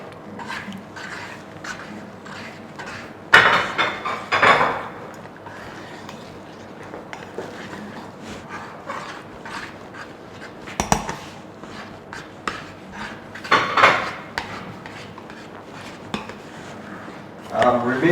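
A spoon stirs soft sorghum pap mixed with ground fresh ginger in a pot, giving scattered scraping and clinking knocks against the metal over a steady background, with a few louder clanks standing out.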